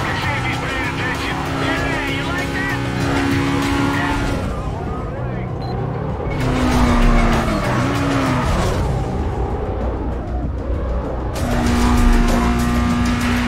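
Race cars in Need for Speed Carbon, a racing video game, with engines roaring through gear changes and tires squealing through corners, loud and close, while someone talks over the game sound.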